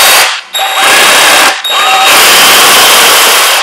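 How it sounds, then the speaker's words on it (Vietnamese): A DeWalt jigsaw runs at full, loud speed in two bursts, briefly stopping between them, its reciprocating blade giving a harsh buzzing whine close up. "nó cũng là một cái máy cưa chuyển động tận tiến nhưng mà lên xuống. Mình sẽ bóp như thế này."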